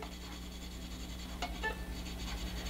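Finger scrubbing a small spot on a violin fingerboard, a faint, continuous close rubbing rasp with a few slightly louder scratches, heard alone over a low hum.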